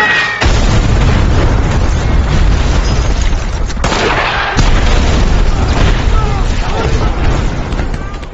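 In a film scene, a tripwire bomb trap explodes and blows up a bridge, giving a sustained, loud rumbling blast and debris roar, with a sharper burst midway and voices mixed in.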